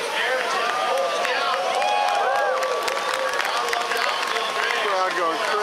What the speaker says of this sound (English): Crowd going crazy for that aerial.